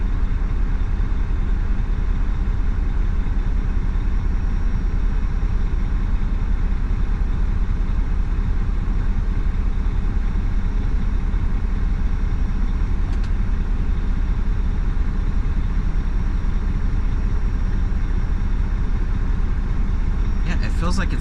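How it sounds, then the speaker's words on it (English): Truck engine idling unevenly, a constant low rumble heard from inside the cab with steady loudness throughout, while people talk over it. "Kind of feels like my truck's idling funny."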